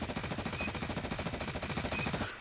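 An M16 with a foregrip fires one continuous automatic burst in Call of Duty Mobile, rapid evenly spaced shots at a steady rhythm, fairly quiet and heard alone.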